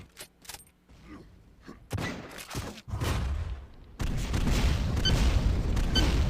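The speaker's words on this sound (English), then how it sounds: "Nice rockets from Chiefin, pummeling him against the pillars" Rocket blasts in a Painkiller duel match: scattered thuds and booms at first, then a dense, loud run of explosions and impacts that keeps building to the end, with no talk over it.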